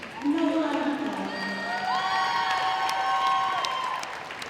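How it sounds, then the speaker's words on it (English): A crowd in a school gym at a girls' varsity volleyball senior night applauds and cheers loudly, with high whoops and shouts rising over sustained clapping throughout. "Another round of applause."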